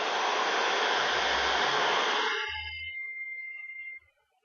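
A hair dryer on its hottest heat and second-highest speed blows with a loud, steady rushing hiss for about two seconds, then fades and cuts off.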